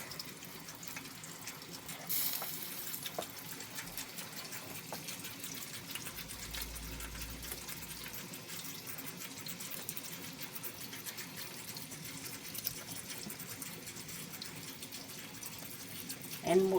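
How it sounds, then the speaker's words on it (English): Tap water runs steadily into a sink while black-eyed peas are rinsed in a home kitchen, a constant moderate gushing and splashing that continues throughout. "Get these black-eyed peas rinsed."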